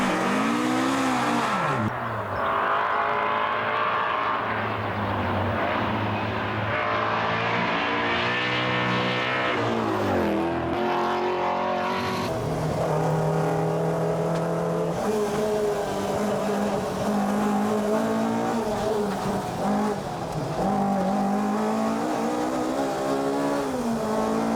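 A Toyota AE86 and a Ford Escort race flat out on a Targa New Zealand tarmac rally stage, engines revving hard and loud through gear changes with a continuous roar and brief tire squeal.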